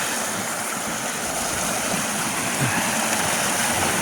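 High spring meltwater stream rushing past as ice breaks up, a loud, continuous broadband roar of churning water heard up close with no voices.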